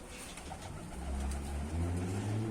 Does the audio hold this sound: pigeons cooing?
yes